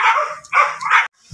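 During an in-home grooming session, a dog gives three sharp, loud barks in quick succession, close by, with a brief silence after.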